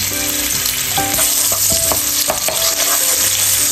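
Garlic sizzles in hot salted oil in a pan, a steady close frying hiss with scattered clinks and scrapes of stirring, and no talk.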